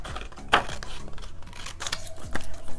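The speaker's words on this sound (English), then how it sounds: "I go ahead and grab my scissors and I just cut it" Scissors cut through a paper planner sheet, with a few sharp, close snips spread across the moment and soft paper rustle between them.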